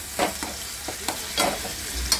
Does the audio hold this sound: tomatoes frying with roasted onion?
yes